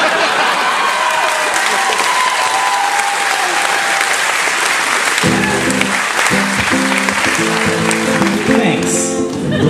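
Cruise-ship concert audience at a performance breaks into dense, sustained applause that fills the room steadily, with music starting up partway through under the clapping.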